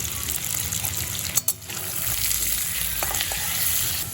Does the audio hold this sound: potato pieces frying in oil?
yes